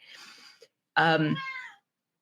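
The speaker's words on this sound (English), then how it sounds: "The cat agrees with me." A cat gives two meows, a faint short one and then a clearer, louder drawn-out one after a brief pause, close to the listener.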